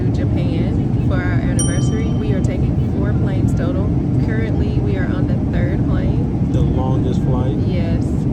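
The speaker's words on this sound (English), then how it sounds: "We are actually on a plane." Steady, loud cabin roar fills an airliner on a long-haul flight from Seattle to Seoul, a constant broadband drone with people talking throughout over it.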